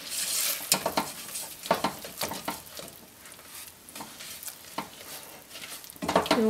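Brown sugar stirred into melted butter in a pan, with soft, uneven scraping strokes and a light sizzle underneath, close and fairly quiet.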